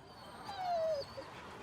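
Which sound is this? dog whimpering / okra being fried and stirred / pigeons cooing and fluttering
dog whimpering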